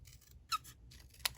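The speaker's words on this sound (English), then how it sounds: "I'm going to grab a smaller pair of scissors" Small scissors snip through card stock in a few quick, close, crisp cuts, with soft rustling between them in an otherwise quiet room.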